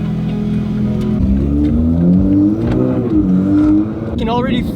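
A Toyota Supra fitted with bolt-on upgrades accelerates hard, its engine note rising and falling through the revs as a loud, close-up drone inside the car, with a voice speaking briefly near the end.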